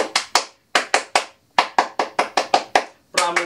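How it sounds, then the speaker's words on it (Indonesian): Rhythmic group clapping in the Indonesian scout clap pattern, sharp close claps in quick bursts with short pauses, then a rapid flurry at the end. "Dua kali tepuk pramuka."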